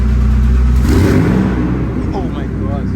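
A Noble M400 engine cold-starts close by, cranking and catching with a loud rising roar that settles into a rumbling idle, with people talking over it.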